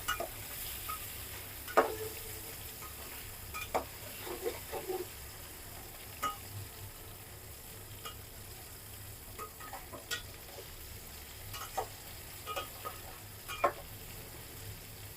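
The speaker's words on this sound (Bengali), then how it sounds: "লবণ আর হলুদ দিয়ে যদি আলুটা ভাজো" Potatoes frying in oil with salt and turmeric, a soft, continuous sizzle under repeated light clicks and scrapes of stirring, quiet and close.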